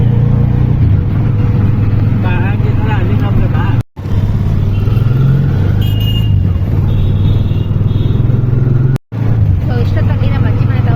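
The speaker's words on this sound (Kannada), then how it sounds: "ಸೊ ಆನಂದ ಒಂದು ಆಟೋ ಹುಡುಕೊಂಡು ಕರ್ಕೊಂಬಂದ. ಸೊ ಹೋಗ್ತಾ ಇದ್ದೀವಿ." An auto rickshaw drives through heavy nighttime rain, its engine droning steadily under a constant wash of rain noise, with two brief dropouts; people talk over it.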